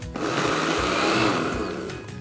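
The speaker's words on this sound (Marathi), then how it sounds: "आता हे छान असं मिक्सरला हलकंसं फिरवून घेतलेलं आहे मी।" A kitchen mixer grinder whirs in a short pulse while coarsely chopping dried fruit, a loud steady motor whine that runs for about two seconds and then cuts off.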